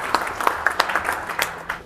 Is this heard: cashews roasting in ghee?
no